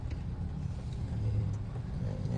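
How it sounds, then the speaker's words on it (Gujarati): Morning traffic waits at a road signal during a rainy trip to Trimbakeshwar, a steady low rumble of car engines idling and moving nearby, fairly quiet and continuous. "અત્યારે સિગ્નલમાં પણ ટ્રાફિક છે સવારે"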